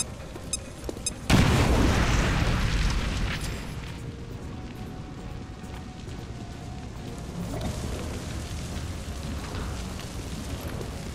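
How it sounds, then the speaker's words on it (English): A grenade detonates in the tactical video game XCOM Chimera Squad, a sudden loud boom with a crackling blast that rumbles and slowly fades into a steady background of low game ambience. "Grenade out!"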